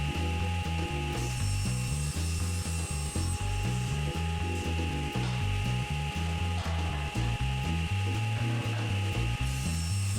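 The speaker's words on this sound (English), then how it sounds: "I'm ripping and cross-cutting two pieces of 1/2-inch MDF to use for the sled." A power saw rips and cross-cuts half-inch MDF sheet for a sanding sled, giving a loud continuous cutting roar with rhythmic, uneven low pulsing throughout and no voices.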